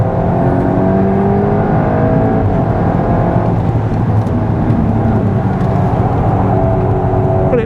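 A tuned Mk7.5 Volkswagen Golf R pulls hard on a race track at the top of third gear, its engine roaring loud and close in a continuous rising drone with no voices over it.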